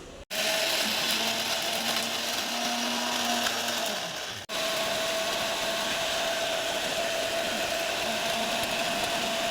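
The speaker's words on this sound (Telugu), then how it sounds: "వేసుకున్న పదార్థాలను ఇప్పుడు మిక్సీ పట్టుకోవాలండి" A mixer grinder grinds ginger and coriander with a loud, steady motor whine close by. It stops briefly, restarts and runs on without talk.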